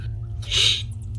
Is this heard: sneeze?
yes